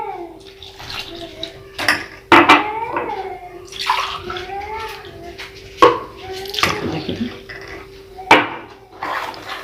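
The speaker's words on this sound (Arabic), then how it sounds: "وهنزل عليها بكوبايتين ميه" Water is poured into a pot in a home kitchen for a stovetop no-bake cheesecake, giving a close, uneven splashing and trickling with a few louder bursts over a faint steady hum.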